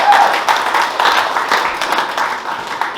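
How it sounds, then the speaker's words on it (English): Meeting audience applauding a guest named Larry at a club gathering, a steady wash of many hands clapping at moderate loudness throughout, fairly close and even. "Guys, give Larry a huge round of applause."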